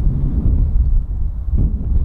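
Wind blowing across a golf course, a steady low buffeting rumble hitting the microphone at fairly high level throughout, with no voices heard.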